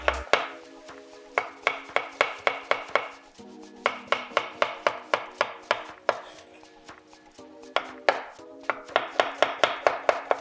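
A knife chopping cucumber on a board in quick, even bursts of sharp taps, with short pauses between runs, close and loud with no voices.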